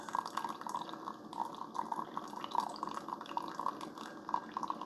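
A Keurig K-Slim single-serve coffee maker drips coffee into a cup with a steady patter of small drops, faint and close, with no voices.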